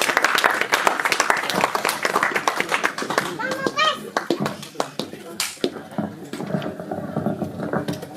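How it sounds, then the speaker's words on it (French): Applause from a congregation at a church anniversary celebration for a pastor, a burst of close, crisp hand clapping with voices and chatter mixed in, tapering off as talking continues. "Et sous nos acclamations, s'il vous plaît."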